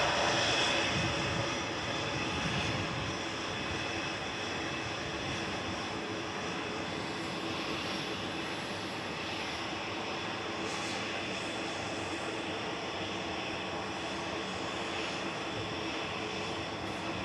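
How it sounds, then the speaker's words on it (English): A Ryanair jet airliner takes off bound for Pisa, its engines producing a steady, fairly distant roar that swells slightly at the start and holds with a high whine, with no talking. "Ryanair 5624 to Pisa going next"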